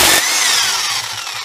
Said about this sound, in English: So after you get on there, just remove the flywheel.